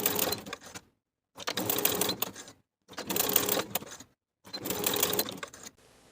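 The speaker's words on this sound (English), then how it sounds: "along each of those short edges, we're going to sew basting stitches" Sewing machine running long basting stitches along fabric edges, in four separate bursts of steady whirring each about a second long, separated by short silent pauses, fairly quiet and close.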